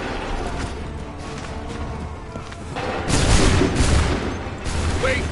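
Musket volleys in Assassin's Creed III, booming blasts fired on command over a noisy battlefield, with a couple of heavier reports near the middle and shouted orders in the background.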